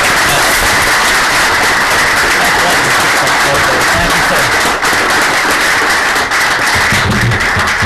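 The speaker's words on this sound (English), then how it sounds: "I think that deserves a round of applause right there." Loud, dense applause from a large crowd, continuous and sustained throughout with no talking.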